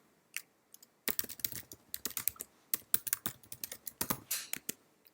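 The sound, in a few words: typing on a computer keyboard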